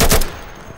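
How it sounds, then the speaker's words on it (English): A single loud, close gunshot from a firearm in the Insurgency video game, a sharp broadband crack with a brief tail that fades over under a second. "Don't know where that shot came from"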